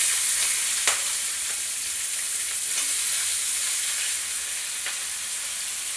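Chopped onion pieces dropped into hot oil after whole garam masala, dried chillies and bay leaves, giving a steady loud sizzle with a few faint clicks, no voices.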